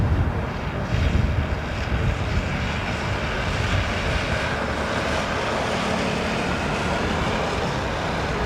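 Aircraft engine roar near London Heathrow Airport, a steady broadband rumble with wind buffeting the microphone, continuous and fairly loud throughout with no clear talk.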